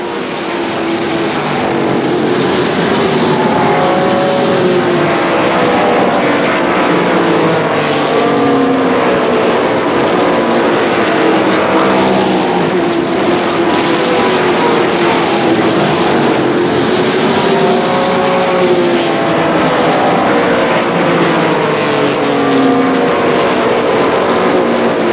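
Race cars roaring around the oval at Columbus Motor Speedway in a 1995 main event, a loud, continuous engine drone with pitches rising and falling as the pack passes.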